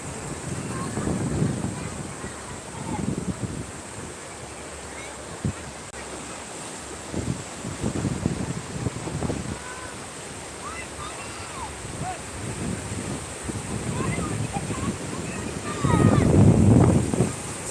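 Steady wash of surf on Shankarpur beach, West Bengal, with wind rumble, swells rising and falling, a louder wave surge near the end, faint voices around.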